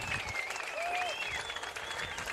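Van Meter fans at a high school boys' soccer state quarterfinal cheer and applaud steadily throughout, a dense continuous crowd roar with whistles and shouts rising over it.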